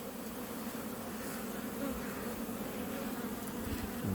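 A large honeybee colony hums steadily as the hive is opened for inspection, a dense, even buzz filling the whole moment with no voices.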